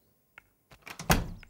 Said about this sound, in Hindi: जाओ दरवाजा खोलो